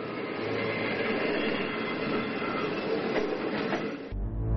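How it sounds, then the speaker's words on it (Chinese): A passenger train travelling toward Benxi, Liaoning, running on rails with a steady rumbling roar and faint rhythmic wheel clatter, heard continuously as if from inside, until it cuts off near the end. "2007年12月，冯海滨带着简单的行李登上了前往辽宁本溪的火车。"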